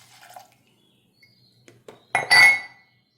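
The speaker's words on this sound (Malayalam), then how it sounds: "ശർക്കരയും പാലും കൂടിയിട്ട് നന്നായി ഒന്ന് അടിച്ചെടുക്കാം." Jaggery and milk whisked together in a bowl for a ragi cocoa cake, heard as a short burst of scraping and clinking about two-thirds through, after a few faint taps and brief clinks.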